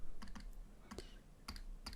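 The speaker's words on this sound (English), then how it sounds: "if we were to type that into our calculator" Quick, light key taps on a calculator keypad, a few short clusters of clicks spread over two seconds, close and fairly quiet with no voices.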